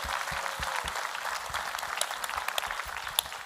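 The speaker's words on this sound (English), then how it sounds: "Can we give Alpha Kappa Alpha Sorority a warm round of applause?" Audience applause at a civic engagement event at Good Hope MBC honoring Alpha Kappa Alpha Sorority, a steady wash of dense clapping that carries on evenly throughout.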